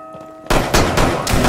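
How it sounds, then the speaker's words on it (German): Gunfire in a Rainbow Six Siege Western event trailer: loud, close bursts of several rapid shots that cut in sharply after a quiet start and keep going in heavy volleys. "Schüsse waren zu hören."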